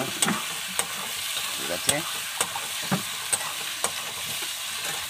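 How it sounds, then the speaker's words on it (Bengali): Spice paste for Bengali-style chicken curry being stir-fried in a pan, a loud steady sizzle punctuated by regular spatula scrapes and knocks, close up, with a brief spoken remark. "দেখো মশলা কষানো হচ্ছে এখনো"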